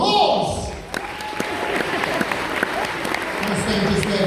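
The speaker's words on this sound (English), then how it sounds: "a massive round of applause, please, for the fantastic Gareth" An audience applauds a guest named Gareth as he comes out on a studio stage, a dense, steady wash of clapping that holds for a few seconds with a voice speaking over it.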